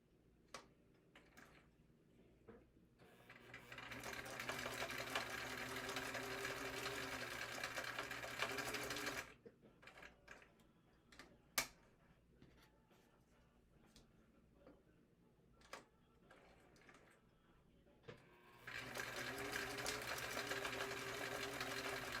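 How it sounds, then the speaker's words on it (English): A vintage sewing machine chain-stitches small wallet pieces in runs, its rapid mechanical whir rising for several seconds, pausing amid clicks and fabric handling, then starting again, close by but fairly quiet. "I'm chain stitching these just like you would quilt squares"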